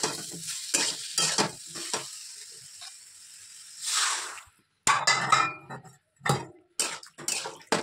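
Water poured into a pan of vegetables cooking without oil, bursts of loud sizzling and hissing between quieter gaps, with clinks of a stirring utensil against the pan, close up.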